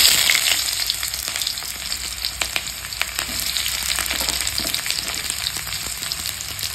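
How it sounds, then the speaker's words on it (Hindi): Onions frying in hot oil with whole spices such as black cardamom, cloves and cinnamon, giving a steady, close sizzle with scattered crackles and stirring scrapes throughout, no voices. "मतलब यहाँ पे अच्छे से फ्राई हो गया प्याज"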